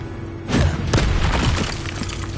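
A Confringo blasting spell from Hogwarts Legacy bursts open with a loud, dense boom, then rumbles and crackles steadily for about two seconds with a few sharper hits inside it.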